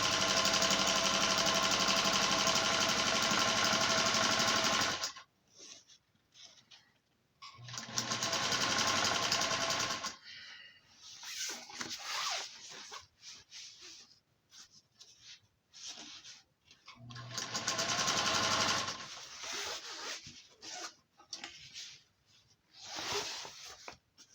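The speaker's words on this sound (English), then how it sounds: "I am stitching the cushion cases." A sewing machine stitches outdoor cushion cases in long continuous runs, loud and close, with short pauses and quieter stop-start bursts between the runs.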